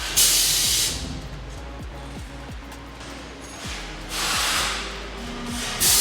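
A factory machine tests front-wheel braking on an E-Ride Pro e-bike, with loud hissing bursts at the start and later, a rhythmic mechanical whirring and a low steady hum throughout.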